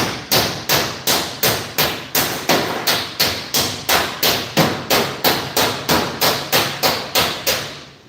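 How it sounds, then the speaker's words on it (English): A hammer strikes a car fender backed by a metal dolly in a steady, evenly spaced series of about twenty sharp, loud blows. Each blow rings briefly before the next one lands, with no voices over the hammering. "I'm holding the hammer like this and swinging it into the fender"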